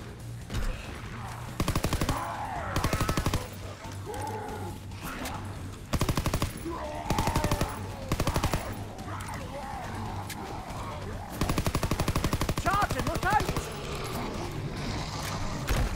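Gunfire in Call of Duty Zombies comes in repeated loud bursts of rapid shots between quieter gaps, with a player talking over the action.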